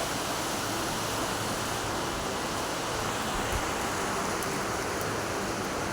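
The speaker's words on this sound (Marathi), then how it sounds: "वाढला पाऊस." Dense, steady unseasonal May rain hiss filling the whole stretch in a village, constant and fairly loud, with no voices or distinct events above it.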